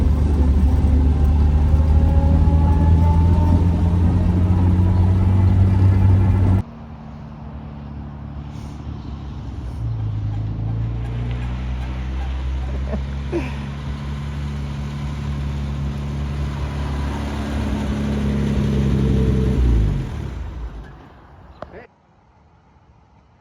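A Jaguar XKE, revived after sitting parked since 1996, rumbles down the highway with a steady low engine drone and road noise, which drops after a few seconds and fades out near the end.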